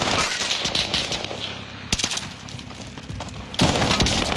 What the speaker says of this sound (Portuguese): Ah, eu quero atirar com a minha arma azul, mano.